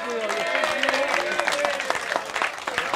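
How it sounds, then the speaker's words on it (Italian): Scattered clapping from a crowd at a football club's season presentation, steady and dense, with a voice speaking over it the whole time. "Però facciamogli l'applauso"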